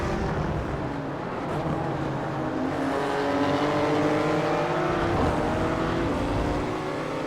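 A race car engine in a racing video game at the Navarra circuit, a loud, sustained drone with rising and shifting pitch as the car accelerates, running steadily throughout.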